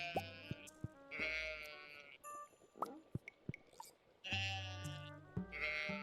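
Sheep bleat repeatedly in a farming video game, several loud, close, wavering calls in separate bursts with quiet clicks and soft noises in between.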